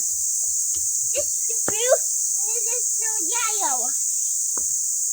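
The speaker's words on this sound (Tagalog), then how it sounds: "Kuliglig." Cicadas drone in a steady, high, continuous buzz throughout an outdoor safari park visit, while children chatter and call out over it.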